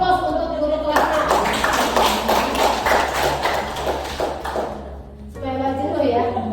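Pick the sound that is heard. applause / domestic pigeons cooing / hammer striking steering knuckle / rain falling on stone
applause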